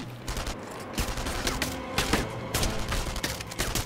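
Gunfire in the WWII shooter Enemy Front: several sharp, loud shots and short bursts in irregular succession, with dense battle noise between them and no talk.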